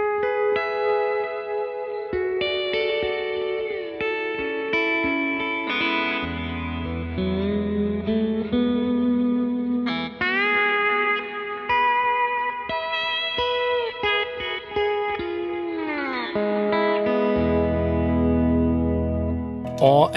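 Slide guitar played through a Kemper Profiler amp modeler, sustained gliding notes and chords sliding between pitches with a thick, effected tone, steady and loud throughout with no voice.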